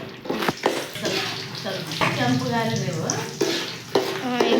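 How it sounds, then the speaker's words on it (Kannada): Peanuts being stirred and fried in a pan over a high gas flame, a steady loud sizzle with scraping strokes of the spoon, while voices talk over it. "ಇವನ್ನ ಚೆನ್ನಾಗಿ ಮಿಕ್ಸ್ ಮಾಡ್ಕೋಬೇಕು ರೀ ಫ್ರೈ ಮಾಡ್ಕೊಂಡು"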